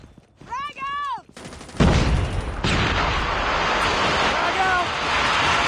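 A grenade going off in Call of Duty Mobile's Juggernaut mode: a loud burst of blast and gunfire noise follows a shouted voice, then a sustained roar of battle sound carries on under game effects.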